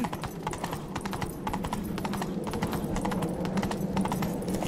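Quick, rhythmic clopping of horse hooves galloping in the video game The Witcher 3: Wild Hunt, steady and continuous over a low background rumble.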